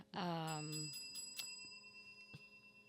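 A bell sound effect rings out once with a bright, sustained chime that fades over a couple of seconds, followed by a few softer dings, close and clear amid a conversational podcast setting.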